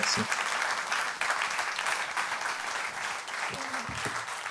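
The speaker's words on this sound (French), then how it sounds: "Merci de les applaudir." An audience at a leaders' conference breaks into steady, dense applause lasting throughout, with a few faint voices and a low thump audible beneath the clapping.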